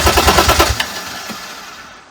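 A turbocharged BMW E36 with an M50 engine cranks and catches with a rapid, rattling burst of firing pulses, then the sound dies away into a fading ring over about two seconds.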